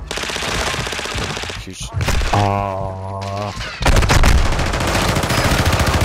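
In a multiplayer shooter video game, a rooftop shooter fires loud, rapid gunfire bursts. The bursts come close and sharp in two stretches around a short tonal pause, and players talk briefly over them.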